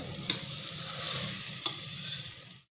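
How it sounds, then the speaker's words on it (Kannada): Rice is stirred and roasted in a pan for pulao, a soft continuous sizzle with two sharp scraping knocks of the spoon, close, ending abruptly. "ಇವಾಗ ಅಕ್ಕಿನ ಒಂದು ಸುತ್ತು ಹುರ್ಕೋಬೇಕು"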